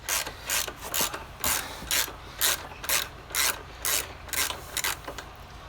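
A ratchet loosens a bolt on a Honda CB500X while a Rally Raid soft luggage rack is fitted: steady rhythmic clicking bursts, roughly two per second, close and clear, with no speech.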